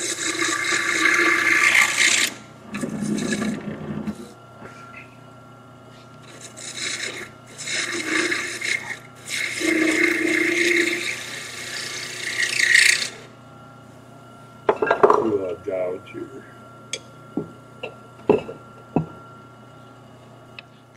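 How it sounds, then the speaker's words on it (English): A bowl gouge cuts a small wooden birdhouse part spinning on a lathe, producing repeated rasping bursts of a few seconds each over a steady motor hum, then lighter scrapes and ticks toward the end. "I'm going to take it down even smaller with a bowl gouge"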